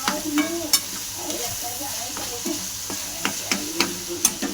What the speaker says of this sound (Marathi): कांदा बघा चांगलं तळून झालं